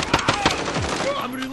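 Rapid bursts of video game gunfire during an online shooter match, with several quick cracking shots close together in a short volley, mixed with other game sounds.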